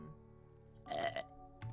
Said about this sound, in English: Belches at you louder.